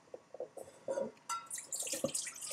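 Water is poured into a cup in uneven splashes and drips, building to a brighter, fuller trickle, quiet and close with no voices.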